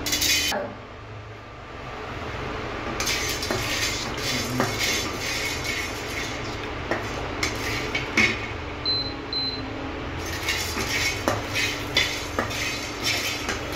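Whole spices, black pepper, cinnamon, dried red chillies and cardamom, go into hot oil for a Bengali-style chicken curry, giving a steady, close hiss of frying broken by light clinks and scrapes of a utensil against the pan.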